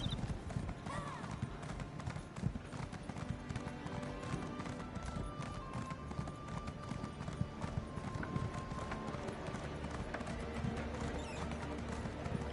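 Horse hooves clip-clopping in the video game Elder Scrolls Online as a mount with backpacks trots along, a steady rhythmic clatter under dense game music and ambience.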